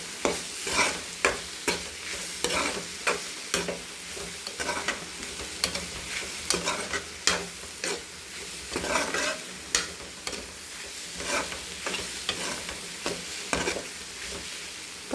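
Carrot and egg stir-fry sizzling in a pan, with a steady frying hiss punctuated by regular scraping spatula strokes, close and fairly loud with no voices.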